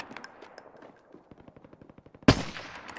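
Rapid automatic gunfire from the video game Warzone, a rhythmic string of sharp shots that builds, then a louder burst or explosion near the end, with no talking over it.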